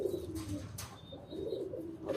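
Pet pigeons coo softly in low, repeated throaty murmurs, faint and close, with a couple of thin chirps and a brief rustle between them.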